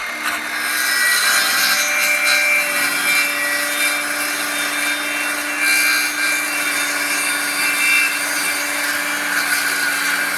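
Hand saw cutting through clamped wood for a homemade billy cart, with a continuous close rasping stroke sound lasting throughout and no talk.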